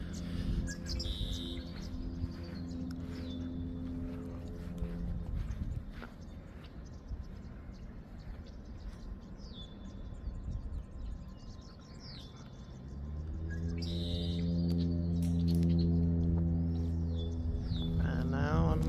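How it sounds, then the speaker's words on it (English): Birds chirp outdoors beside a holding pond, with repeated short calls at moderate distance over a steady low hum that grows louder toward the end. "You can hear the birds."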